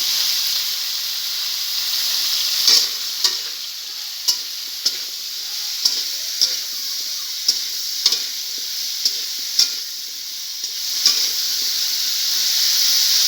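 Cauliflower frying in a pan, a steady bright sizzle running throughout with regular light clicks of stirring spaced about a second apart, close and fairly loud, no voices.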